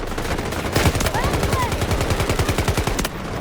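Sustained rapid automatic gunfire in the shooter Delta Force, a close, loud, steady stream of shots lasting about two seconds before stopping abruptly.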